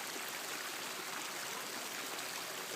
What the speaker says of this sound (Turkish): bu akıp giden suyu gördüğünüz sadece bir kısmı